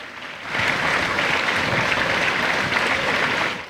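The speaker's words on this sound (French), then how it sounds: "une minute d'applaudissements, en toute sobriété, à l'abri des regards" Applause starts after a brief quiet moment and holds as a steady, dense patter of clapping before tapering at the end.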